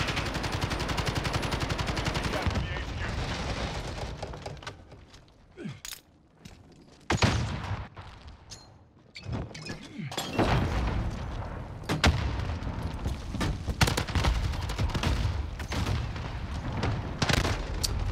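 An AUG assault rifle in Modern Warfare fires in loud rapid bursts, with a quieter lull in the middle before heavy gunfire and booming impacts resume and dominate to the end.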